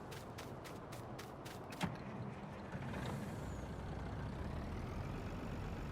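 A truck and trailer combination in Farming Simulator 19 gives a quick run of sharp rhythmic clicks and a hiss like an air-brake release over a steady engine drone that continues alone and even throughout.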